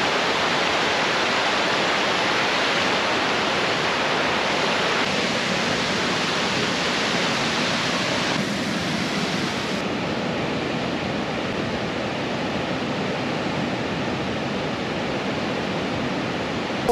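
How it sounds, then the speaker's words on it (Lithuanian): A waterfall inside an abandoned old silica mine pours with a loud, steady, broadband roar, a constant rush of water that never lets up, with no voices over it. "Vat kitas rakursas krioklio."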